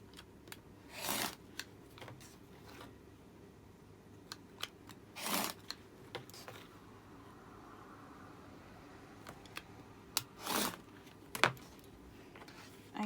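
A rotary cutter slices fabric strips for a quilt block in several short, crisp swipes spaced a few seconds apart, quiet and close, with faint handling ticks between cuts.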